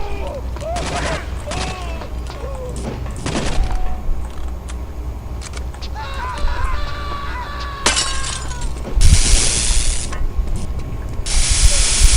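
A flamethrower in the shooter game Return to Castle Wolfenstein roars in bursts of loud hissing spray amid gunfire, clattering impacts and cracking shatters, close and busy, with talk over the action.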